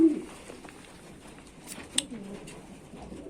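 Young racing pigeons coo faintly in the background of a quiet loft, with low soft murmurs and a few light rustles and taps.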